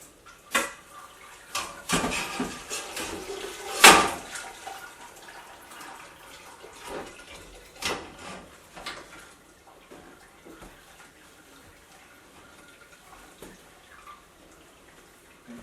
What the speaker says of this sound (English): Make sure I'm not dripping on the stove, and just let that drain while the wort heats up to boil.